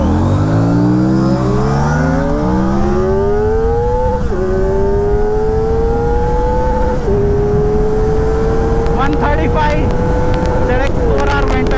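Kawasaki Ninja ZX-4R and Royal Enfield-class RS 457 motorcycles accelerate hard in a drag race, engines climbing in pitch through several gear shifts with loud, continuous revving over wind noise, with people talking.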